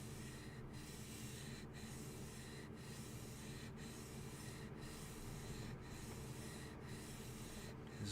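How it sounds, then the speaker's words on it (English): A blade's back bevel being polished in a workshop during blade maintenance: a steady, dense rubbing hiss with brief regular dips roughly once a second, continuous and close, with no talking. "I'm going to just work a little, just polish a bit of the back bevel"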